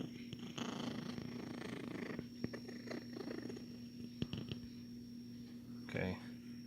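A JBL Boombox speaker plays its lowest bass tone, giving a steady, buzzing rumble like a purring cat that holds for several seconds at low volume amid faint room noise.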